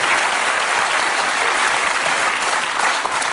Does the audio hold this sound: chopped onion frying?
no